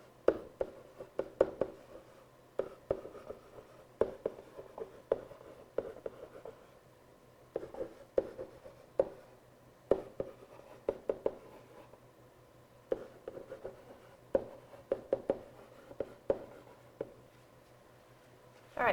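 Pen or marker writing on a surface in a classroom activity, producing a steady series of short scratching and tapping strokes in bursts over a low steady hum, fairly close and without talk.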